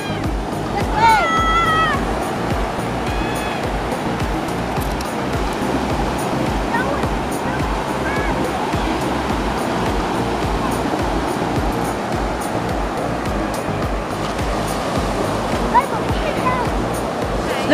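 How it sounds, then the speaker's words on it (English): Strong ocean surf breaking on the shore at Tannum Sands beach, Queensland, a steady broad wash of waves that runs the whole time, with people talking nearby over it. "Look at the waves. Very strong."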